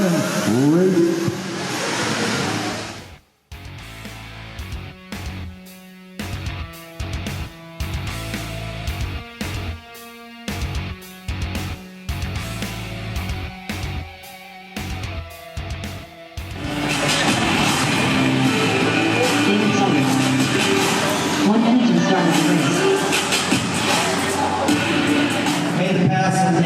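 Dirt track race trucks at the Alabama Manufacturer Shootout launch off the start. Loud engines blip and rev in short bursts, then surge into a sustained, roaring pack with crowd noise mixed in.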